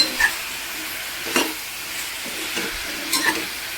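Brinjal pieces fry in oil in a pan with a steady sizzle, broken by several distinct scraping stirs spaced about a second apart, close by and moderately loud.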